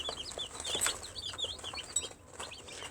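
Young chicks peep in a group, a steady scatter of high, thin chirps that overlap close by with no talk.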